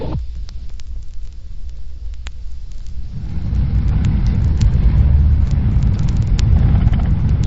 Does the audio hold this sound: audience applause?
no